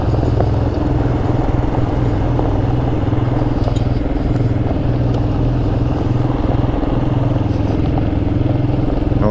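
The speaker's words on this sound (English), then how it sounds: "when the exhaust harmonizes and you get that kind of a waving back and forth stereo effect" Motorcycle exhausts on Royal Enfield Himalayan bikes riding down the road, a steady loud engine drone with pulsing low harmonics that waver back and forth, continuous and close throughout with no talk.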